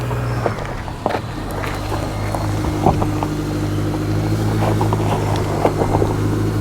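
A GMC Canyon AT4 pickup on an off-road hill obstacle, its engine droning steadily up close as the wheels spin and crunch against the ground, with scattered knocks and scrapes over the continuous rumble.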